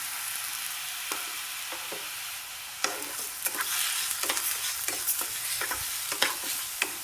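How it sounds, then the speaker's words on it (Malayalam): Horse gram that was washed and drained is dry roasted in a pan over a medium flame, with a soft sizzle and repeated crisp scraping strokes of stirring, close up and with no talking. "ഇത് കരിയാതെ കണ്ട് ഒരു മീഡിയം ഫ്ലെയിമിലിട്ടിട്ട് വറുത്തെടുക്കണം കേട്ടോ."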